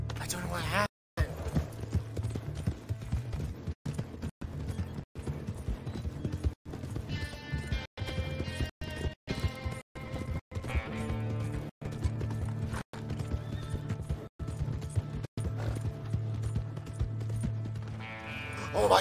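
Hooves of a horse in the video game Red Dead Redemption 2 clip-clop in a fast, steady galloping rhythm, with game effects and occasional talking over them.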